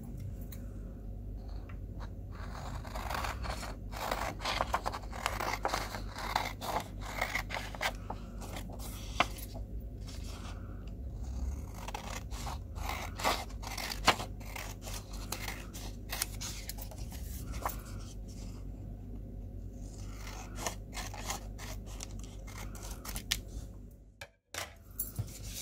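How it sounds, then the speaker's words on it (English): Scissors snip through folded red paper for a Christmas tree craft in a long series of close, crisp cuts and rustles, with some paper handling between strokes. "we need to cut one of these out with our scissors"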